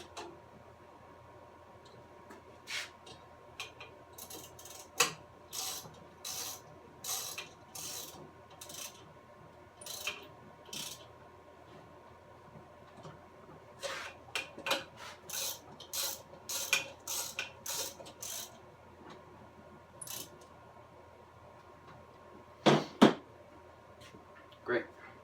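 A hand ratchet clicks in short, quiet bursts while snugging 9/16 bolts on a Wayne WLS150 pump housing, with rapid tick-tick runs separated by pauses and a couple of louder knocks near the end.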